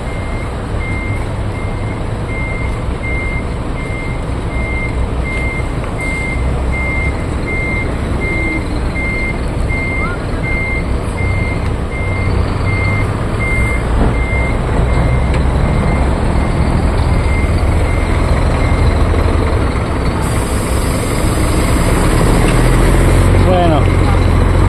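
Trucks arriving and reversing at a ferry port, with a steady reversing beep over continuous loud engine rumble and harbor noise; people talk in the background throughout.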